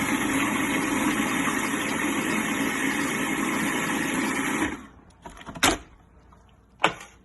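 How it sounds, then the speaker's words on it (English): A food processor chops onions for salsa with a steady, close motor whir for nearly five seconds. Then it stops, and a couple of sharp clicks and knocks follow in the quiet. "Put those in the processor. I'm going to grind those up. Chop those up just a little bit."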